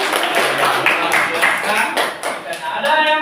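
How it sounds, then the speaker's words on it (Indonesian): Classroom applause for a student group after their presentation, a dense burst of many hands clapping close by for about three seconds, with chatter mixed in. "tepuk tangan untuk kelompok 4"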